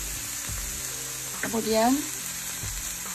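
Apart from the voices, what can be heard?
broccoli frying in a pan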